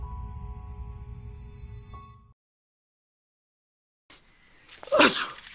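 A single loud, close sneeze bursts out at the end after a low musical hum fades into silence, with no talking.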